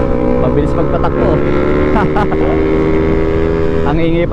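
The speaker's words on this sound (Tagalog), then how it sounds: "Ang ingay pa ng tambutso." A loud motorcycle engine roars continuously up close with rumbling, noisy exhaust and wind buffeting, heard from a moving Suzuki Raider.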